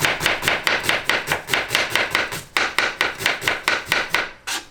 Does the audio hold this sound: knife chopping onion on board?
yes